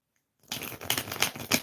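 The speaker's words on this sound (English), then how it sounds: "Shuffling the cards for you." Tarot cards are shuffled by hand in a quick, crisp riffling burst of papery flicks that follows a moment of silence, close and fairly quiet, with no talking.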